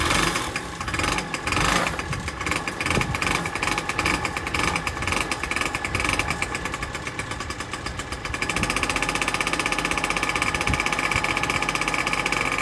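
A Peugeot Speedfight 2 100cc scooter engine runs nearby with a raspy, buzzing two-stroke tone that rises and falls with the throttle, ending in a steadier hum.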